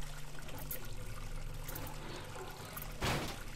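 Water flows in the video game Amnesia: White Night as a steady, soft trickling stream with a brief louder gush near the end, continuous and fairly quiet, with no voices.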